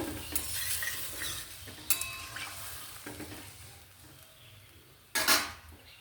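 A spoon stirs prawn curry in a pot, giving a soft, steady scraping and simmering bed with a couple of louder clanks against the metal, near and without talk.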